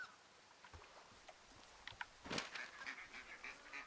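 Ducks quacking in the Firewatch video game, a few faint, scattered calls rising into a louder burst near the middle, then continuing lightly over a quiet background.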